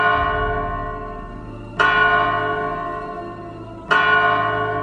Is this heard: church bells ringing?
yes